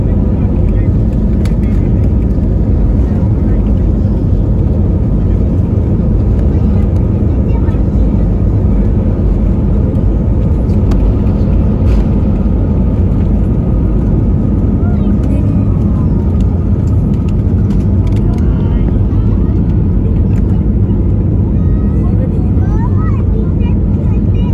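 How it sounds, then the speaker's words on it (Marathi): Inside the cabin of a passenger airplane on a Tirupati to Mumbai flight during takeoff, a loud, steady low engine roar fills the whole stretch without easing. "टेक ऑफ झालेला आहे विमानाचा."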